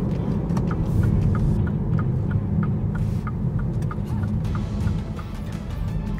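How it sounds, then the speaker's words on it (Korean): Heavy road and tire roar inside a moving third-generation Mini Countryman S, a dense low rumble with a faint rhythmic ticking over it. "이 노면 소음은 정말 크네요. 역시 타이어 파열음이 많이 납니다."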